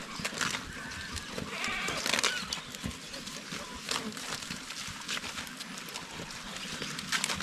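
Goats recovering from orf on a Filipino farm, with bleating mixed into steady outdoor farm noise, some rustling and clatter nearby, at moderate loudness throughout.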